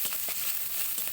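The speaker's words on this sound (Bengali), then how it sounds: "শুকনা মরিচ, কালো জিরা দিয়ে দেওয়া হচ্ছে।" Dried red chillies and black cumin fry in hot oil, giving a short, steady sizzle with faint crackles close by. No voices are heard.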